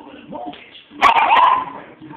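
A pet dog watching dogs on television lets out one loud, close bark, with quieter whimpering and television sound before and after it.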